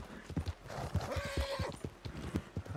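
Horse hooves clip-clop in a steady rhythm through Red Dead Redemption 2, close and clear, with a brief whinny-like tone partway through.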